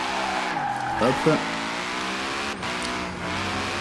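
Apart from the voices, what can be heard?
Ford F150 Hoonitruck drifting, tires skidding, in video game Forza Horizon 4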